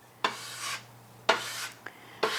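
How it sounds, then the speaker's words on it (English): Bread scraper scraping dough scraps off a kitchen counter after baking bread bowls, three or four short close rasping scrapes separated by brief pauses, with a faint steady hum beneath. "Use your bread scraper if you have one of these."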